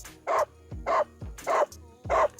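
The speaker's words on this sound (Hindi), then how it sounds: "ये मेरा बॉक्स है, इस पर भी कुत्ते के साउंड लगाता हूँ तो ये भाग जाएंगे सब" A recorded dog barking plays from a portable speaker box outdoors on a hillside, four evenly spaced loud barks, each followed by a brief pause.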